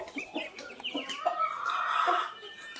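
Rhode Island Red game fowl clucking at feeding time, several birds calling close by in short overlapping clucks that build into a steadier chorus, with no talk.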